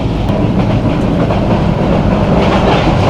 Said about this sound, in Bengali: ট্রেন চলতেছে দুর্দান্ত গতিতে সুবর্ণ এক্সপ্রেস